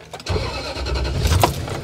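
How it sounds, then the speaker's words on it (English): A car engine is cranked and catches quickly during a battery test with a scan tool, turning into a steady low idle rumble after a brief start. "start the engine. It must be started within 30 seconds."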